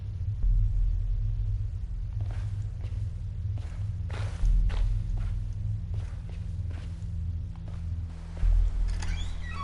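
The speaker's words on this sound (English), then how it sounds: "Don't tell me the banging was my footsteps." Footsteps in the horror video game Slender: The Arrival, soft thuds spaced irregularly over a steady low rumble, with a few sharper heavier impacts standing out, fairly quiet and close.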